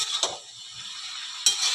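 A spoon stirs a curry with Kashmiri chili in a pan, two brief scraping strokes over a faint background hiss.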